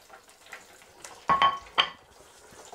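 Beer-battered zander fillet laid into hot oil gives a couple of soft crackling sizzle bursts, faint and close, amid quiet kitchen handling noise.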